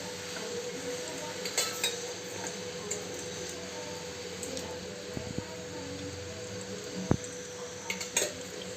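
Cooking oil heating in a hot kadhai: a quiet, continuous sizzle with occasional light clinks and scrapes from a utensil in the pan.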